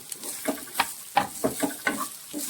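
Chopped jackfruit goes into a pan of ground coconut paste for a thoran and is stirred, giving a series of soft, close scrapes and clicks about every third of a second with a faint sizzle underneath.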